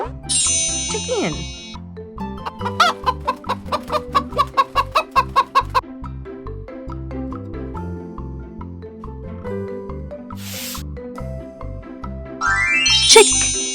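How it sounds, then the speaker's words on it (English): A farm chicken clucks in a quick run of repeated calls over a bouncy children's music track with bell-like dings and jingles. "Chicken."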